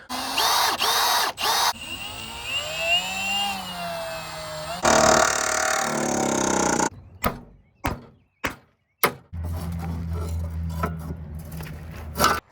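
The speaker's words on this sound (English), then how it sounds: "take an oversized drill bit and hit all these marks" A power drill with an oversized bit whines and grinds through metal on a Saab 9-3 body during collision repair, pitch rising and falling under load, then stops for a few sharp knocks before resuming with a steady hum.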